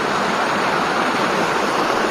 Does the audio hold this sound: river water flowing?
yes